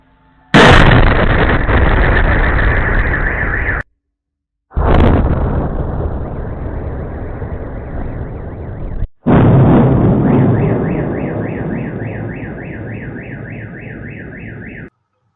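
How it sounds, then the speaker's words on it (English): Three loud, roaring blasts in succession from drone debris explosions in the Moscow region, each sustaining a long rumbling wash, the last with a wavering siren-like tone over it. "Debris explosions"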